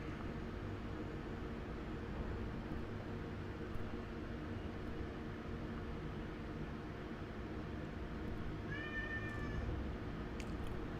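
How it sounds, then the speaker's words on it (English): Basil the cat gives a single short meow late on, faint against a steady broadband hiss of background noise, with no one talking. "Oh, hey, Basil the cat. My cat has come to join the stream."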